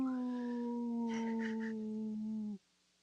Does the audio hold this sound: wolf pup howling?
yes